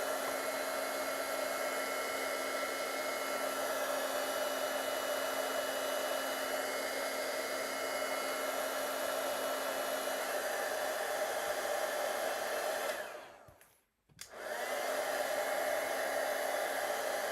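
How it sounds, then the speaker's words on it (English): Hair dryer blowing steadily on small paper cutouts, a constant close whir that briefly cuts out near the end before resuming. "these little cutouts that are flying away as I'm drying"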